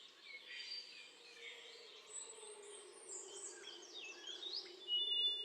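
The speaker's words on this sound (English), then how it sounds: "That's a black-faced solitaire." Faint, distant birdsong in a Panama cloud forest, where a black-faced solitaire sings thin, high whistled phrases among other chirps over a low hum of insects.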